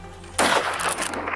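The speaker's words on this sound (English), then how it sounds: "I raised my rifle and fired." A single rifle shot fired at wild boars in dense forest bursts out sharply and loudly after a quiet moment, followed by a rough, rolling echo that carries on to the end.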